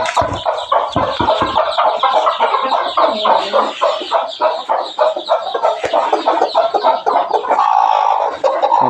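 A hen clucking close by in a farmyard, a rapid run of short repeated clucks followed by a longer drawn-out squawking call, loud and clear with no talk over it.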